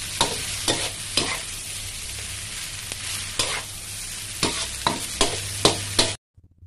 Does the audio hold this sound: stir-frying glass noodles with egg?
yes